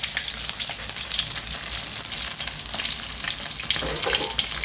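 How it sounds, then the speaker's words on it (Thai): Fish frying in a pan of hot oil without batter, a dense, continuous crackling sizzle close up with scattered pops, no talking. "ผมทอดให้ดูทีละตัวก่อนนะครับ"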